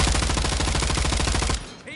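Rapid automatic gunfire in the Spec Ops military shooter game, a loud, dense, evenly spaced burst lasting about a second and a half before cutting off.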